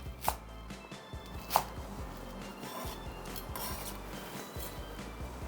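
A knife chopping garlic chives on a cutting board, with a few distinct knocks followed by quieter cuts, close and without talking.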